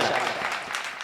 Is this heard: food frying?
no